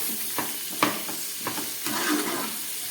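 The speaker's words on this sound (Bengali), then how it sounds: "একটু ভেজে নিচ্ছি" Tomato pieces with salt and turmeric frying in oil for a fish curry, a close continuous sizzle broken by short scraping stirs, without talk.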